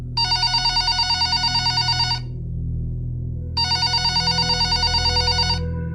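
A telephone bell rings in two long electronic trilling bursts separated by a short pause, loud and close with a low hum underneath and no voices.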